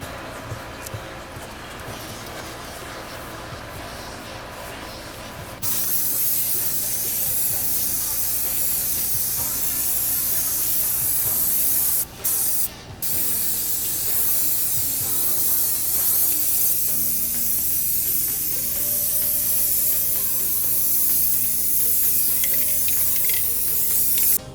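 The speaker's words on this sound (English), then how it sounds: "I'm just using this flat black enamel, and then I'm going to spray it with the actual clear coat" Flat black enamel sprays from an aerosol can onto a motorcycle part during a Ninja cafe racer rebuild, a loud steady hiss that runs almost continuously with a brief break partway through.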